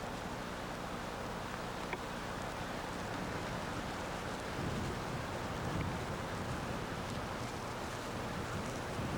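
Strong wind buffets the microphone on an open Florida shoreline at Sanibel, a steady broadband roar with gusts swelling midway through, continuous and close, with no voices.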